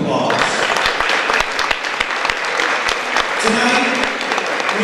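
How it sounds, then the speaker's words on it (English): Audience applause fills a gala ballroom at a radio station's anniversary celebration, a steady dense wash of clapping with a few sharper claps close by, lasting the whole stretch. "So let's give them a round of applause."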